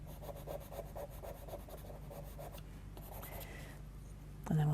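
Charcoal is drawn across paper in quick, rhythmic scratchy strokes, faint and close, with a brief louder knock at the end.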